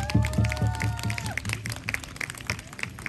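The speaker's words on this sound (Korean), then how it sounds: "박수 부탁드립니다." An audience at a children's pansori concert claps for the drummer, a brief burst of applause with some cheering that fades quickly.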